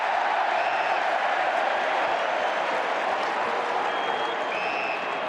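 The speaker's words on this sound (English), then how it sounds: "And the crowd roar their approval." A dense, sustained roar from the crowd at an AFL football match between Fremantle Dockers and Adelaide Crows, loud and steady across the whole span, with faint whistle-like tones drifting above.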